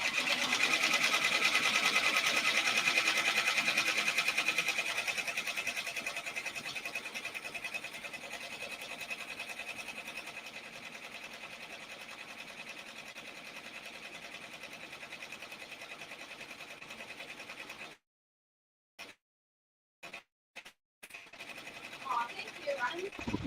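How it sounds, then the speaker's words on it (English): A Brother PR680W embroidery machine stitching a patch, a steady fast mechanical whir and needle chatter that gradually softens, with someone talking over it before the sound drops out near the end. "while it's stitching, I'm going to pop in because I know we all love to watch these things embroider"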